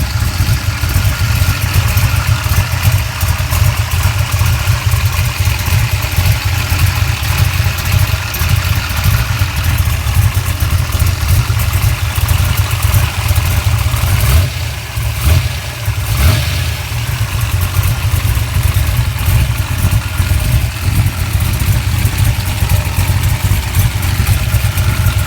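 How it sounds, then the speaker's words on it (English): A loud, rough 1969 Pro-Mod Camaro drag car engine idles steadily with a heavy low rumble, dipping briefly midway before settling back into its constant throbbing drone. "As promised, we do have a video of the engine running."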